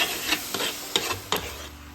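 A thickening sugar and milk mixture for milk cake caramelizing in a pan, stirred in three or four quick scraping strokes over a soft continuous sizzle.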